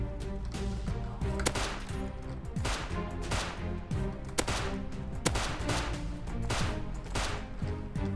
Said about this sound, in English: Lots of shots coming from this way.